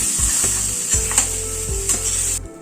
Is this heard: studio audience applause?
no